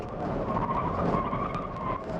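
Tires on an Audi Q2 35 TDI fitted with fuel-economy tires slide and scrub through a corner, a sustained moderate skidding hiss over a low engine hum, with no talking.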